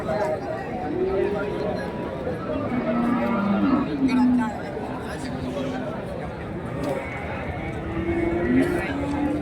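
Cattle moo several times in drawn-out calls at a calf market in Karimangalam, Dharmapuri district, some near and some farther off, over constant crowd chatter and people talking.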